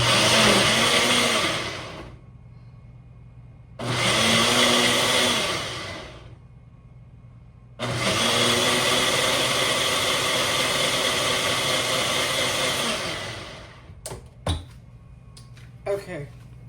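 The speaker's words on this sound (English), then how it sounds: "So I'm going to blend all that up into a nice thick glaze" A kitchen blender whirring loudly in three bursts, blending sauce into a thick glaze, with pauses between runs and a few clicks at the end.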